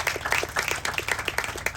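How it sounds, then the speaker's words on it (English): Scattered audience clapping for guests at an outdoor memorial plaza dedication ceremony, fairly faint and uneven, with individual claps audible in a loose rhythm. "Let's give them all a great big applause for the wonderful being here."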